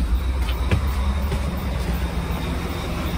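Steady low rumble of a Prevost coach in motion, CIT Roussillon bus 807-8220, with broadband road and engine noise holding evenly throughout and no talk.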